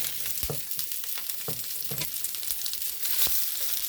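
Onions sautéing in a pan, a steady close sizzle with occasional soft knocks of a utensil while stirring, moderately quiet, with no talking.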